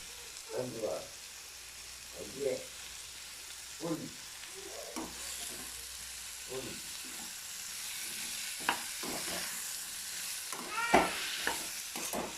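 Curry leaves frying in oil with chopped ivy gourd in a stir-fry: a steady close sizzle broken by scraping stirring strokes at irregular intervals.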